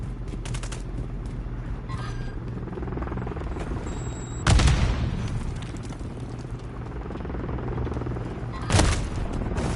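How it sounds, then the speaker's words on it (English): A friendly overwatch helicopter in Call of Duty drones steadily with a low rotor hum beneath bursts of gunfire and two heavier booming blasts. "Friendly Overwatch Helo in the area."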